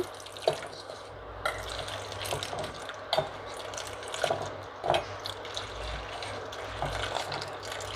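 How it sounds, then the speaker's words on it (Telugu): Water poured into instant corn soup mix, a continuous close trickling and splashing with several small sloshes and knocks over eight seconds. "ఇప్పుడు మనం ఈ సూప్లోకి మనమైతే వాటర్ పోసేసుకుందాము."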